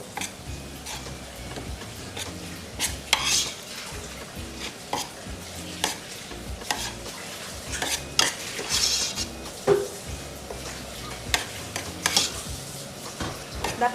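Kimchi paste being stirred and mixed in a bowl, with repeated scraping, clinking utensil taps and soft wet sloshing at close range, irregular in rhythm, with no talking.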